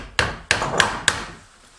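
Four sharp taps spaced about a third of a second apart, a bradawl knocked into a hinge screw hole in wood at close range, with no talking.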